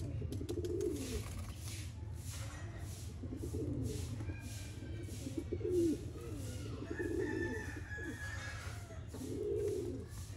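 Breeder pigeons in Sialkot cooing in repeated soft throaty bursts over a steady low hum, fairly close, with a faint voice now and then in the background.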